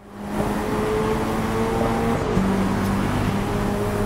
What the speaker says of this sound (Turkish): Düz yolda motor sesini duyuyoruz ya, çok iyi ya.